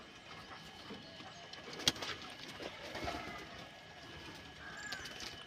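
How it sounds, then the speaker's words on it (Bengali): Pigeons coo softly from a rooftop loft while birds are being released, a sharp click near two seconds and faint rumble of traffic beneath the low, murmuring calls. "দেখুন পায়রাগুলো সব দিয়ে যাচ্ছে।"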